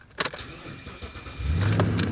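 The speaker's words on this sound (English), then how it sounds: "Start the engine." Truck engine cranking on a weak battery, with a few brief clicks and rattles before a low, strained rumble builds and holds near and fairly loud through the final half.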